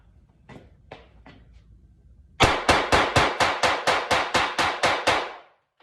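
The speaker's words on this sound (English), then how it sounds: "The audio cut out a little bit there due to the sound of the gun going off." Twelve sharp, loud gunshots from a Springfield Hellcat pistol fired in rapid, steady succession after a couple of faint clicks, each blast ringing briefly before the next.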